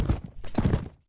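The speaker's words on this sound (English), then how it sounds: "Press W to spur the horse onward, and S to rein him in." Horse hooves clatter in quick rhythmic bursts as a rider spurs a mount in Mount and Blade: With Fire and Sword, close and fairly loud, fading out abruptly at the end.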